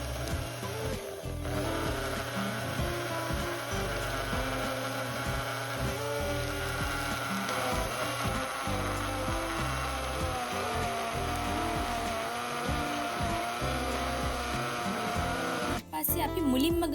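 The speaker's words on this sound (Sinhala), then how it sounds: "ටික ටික බෙන්ඩරේට එකතු කරන ගමන් වතුර ටික ටික දාලා බ්ලෙන්ඩර් කරගන්න ඕන" A kitchen blender whirs continuously as it blends washed, chopped leafy greens with water for kola kanda, a steady loud motor drone that pauses briefly near the end before restarting.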